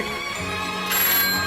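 A phone rings indoors during a conversation about dramaturgy, a steady electronic ringtone tone that grows louder partway through the short stretch, with no talking over it.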